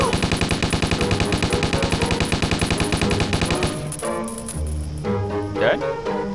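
Rapid continuous automatic gunfire in a video game, a steady stream of loud shots for several seconds that then breaks off into scattered game sounds.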